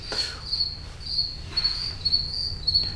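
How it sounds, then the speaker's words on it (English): Steady, high-pitched crickets chirp in repeated pulses over a low background hum, with no talking. "we got a lot of crickets"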